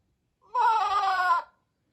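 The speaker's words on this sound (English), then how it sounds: "That's the sound of a goat." A single goat bleats once, a loud, close, wavering cry of about one second standing alone in silence.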